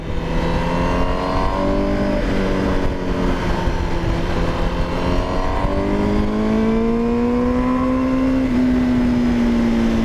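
A 2020 Honda CBR1000RR-R SP motorcycle accelerating hard, its engine note climbing steadily in pitch through the revs, loud and close with a continuous wind-rushed drone and no talk.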